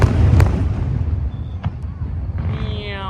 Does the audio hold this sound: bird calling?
no